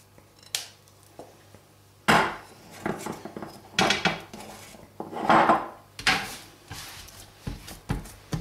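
A spatula works cold porcelain paste, the homemade modelling clay still a little warm and sticky, giving intermittent scrapes, clinks and knocks against the container, close and moderately loud with short pauses between strokes.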